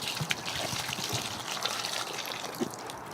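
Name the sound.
water poured out into the snow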